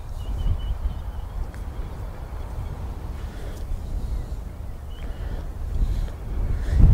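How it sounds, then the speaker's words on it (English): Gusty wind buffets the microphone with a constant low rumble, swelling louder toward the end, with no voices. "Oh, it's so windy,"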